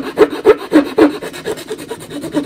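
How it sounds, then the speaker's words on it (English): A semi-coarse file is pushed gently across wood in a woodworking shop, giving about nine rhythmic rasping strokes, evenly spaced and close up, slightly softer toward the end, with no talking. "I have another semi-coarse file, and I'm just going to very gently"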